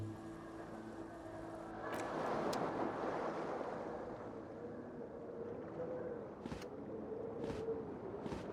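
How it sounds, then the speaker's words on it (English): Cool wind gushing in through a smashed window in Disco Elysium, a steady airy rush that swells briefly and then settles into a low, even whoosh. "A cool wind gushes in."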